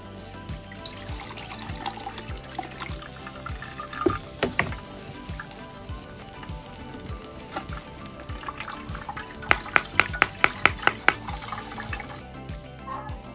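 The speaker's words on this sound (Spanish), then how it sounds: "Aquí voy a cernirlos en esta olla para hacerlo." Duck broth for tamales poured and strained into a pot, a steady close trickle of liquid with a few sharper splashes and clinks near the end, no talking.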